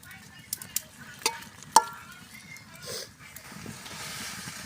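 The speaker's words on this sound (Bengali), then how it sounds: "কয়েক পদের সবজি দিয়ে আজকে এই শীতের রাতে সবজি খিচুড়ি রান্না করা হচ্ছে" Vegetable khichuri of rice, masoor lentils and mixed vegetables cooking on a winter night, with a few sharp utensil clinks and scraping from stirring over a low, steady bubbling and sizzling bed.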